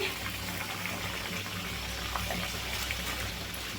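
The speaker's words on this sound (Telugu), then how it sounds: "ఇప్పుడు మనం చేసిన అప్పాలు అయితే వేసుకోవాలి ఆయిల్లో" Bottle gourd appams sizzle in hot oil over a low flame, a steady, dense frying hiss that holds evenly throughout with no voices over it.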